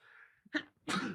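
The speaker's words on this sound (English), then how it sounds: "I'm about to sneeze." A single close human sneeze, a brief breathy intake followed by a sharp explosive burst, heard alone in a quiet indoor setting.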